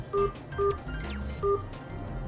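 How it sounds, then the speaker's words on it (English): Touch-tone phone keypad dialing during an automated phone activation call, three short, clean DTMF beeps spaced evenly apart, quiet and isolated on a faint line hiss. "please enter the following number on your phone's touchtone pad"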